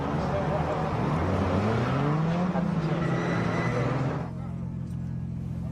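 A Skyline drift car with a swapped RB25 engine and a big HKS 3037S turbo kit revs hard with a rising, wavering engine note and tire noise, then drops away, under a voice talking throughout.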